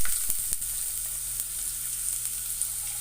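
Ginger sizzles in hot oil in a kadai, a steady close-up frying hiss with a few faint clicks of utensils early on and a low hum underneath, with no voices.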